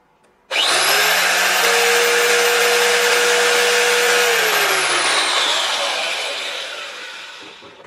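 A Lacela 890 watt marble cutter starts abruptly and runs with a loud, steady high-pitched whine for about four seconds, then is switched off and its motor note slides down as the blade spins down and fades.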